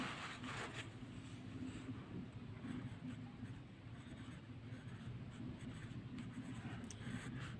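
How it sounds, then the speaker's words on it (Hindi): A pen scratches across paper while a math formula is written out for a class 10 statistics problem, a soft, steady scribbling close by at low level with faint background noise. "तो यहाँ पर बहुलक का सूत्र लिखते हैं"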